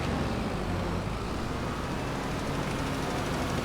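A tractor engine in a farming video game drones steadily as the vehicle sits stuck in deep snow, a dense, continuous rumble with no clear changes and no talk.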